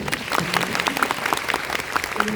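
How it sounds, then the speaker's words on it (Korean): Audience applause at a film screening Q&A at the Busan International Film Festival, steady clapping throughout under faint murmur, moderately loud and close. "박수 한번 부탁드려요"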